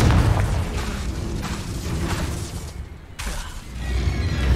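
A Confringo spell blast in the video game Hogwarts Legacy: a booming, crackling burst with shattering debris, a brief dip, then renewed rumbling impact noise, loud and close.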